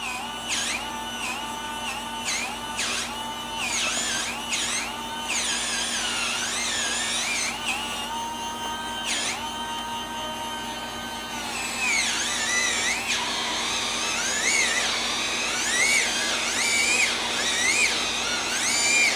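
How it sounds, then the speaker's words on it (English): A handheld electric spin scrubber whirs as it scrubs a Sharpie mark, a high whining motor with pitch wobbling up and down under load, continuous and close. "I've been scrubbing now for maybe 60 seconds."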